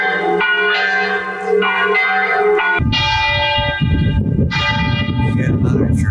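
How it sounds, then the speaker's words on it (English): Church bells ring out on a Sunday morning in Italy, loud and sustained with overlapping resonant strikes and a low rumble of background activity beneath them. "The church bells are ringing."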